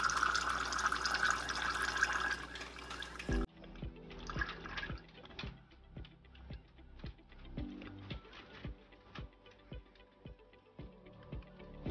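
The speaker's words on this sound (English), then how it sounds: "add 20 grams of water because we want to see the final solution" Water is poured into an isopropyl alcohol and solubilizer emulsion mixture, a loud steady pour that gives way to a run of close, rhythmic drips and splashes.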